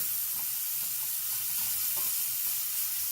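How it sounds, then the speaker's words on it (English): Onions stirred in a frying pan: a faint, steady sizzling hiss with soft scraping stir sounds, no voices. "I'm gonna stir it a little bit"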